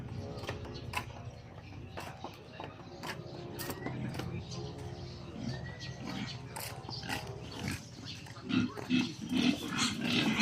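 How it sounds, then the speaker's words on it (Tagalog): Domestic pigs grunt and snuffle nearby among scattered clicks and clanks, with some voices in the background and a burst of louder grunting near the end. "Ito ang aming alagang baboy."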